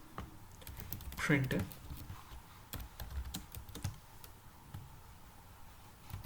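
Typing C code on a computer keyboard, irregular bursts of close, crisp key clicks with brief pauses, under someone speaking briefly.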